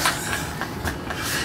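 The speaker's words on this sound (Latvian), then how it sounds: "Tramvajs brauc uz Brīvības ielā." A Riga tram rolls along its rails, a brief rumbling ride with soft rhythmic clicks over the track joints, heard fairly close for a moment.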